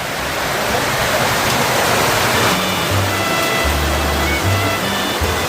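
Heavy rain pours outside a jungle village shelter, a loud, dense, unbroken hiss of falling water with low rumbling underneath and no voices.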